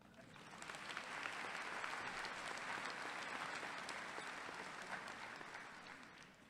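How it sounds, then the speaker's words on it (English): Audience applause at a college commencement ceremony, a broad, sustained wash of many people clapping that rises at the start and fades slightly toward the end, heard at a distance and fairly quiet. "give them a round of applause"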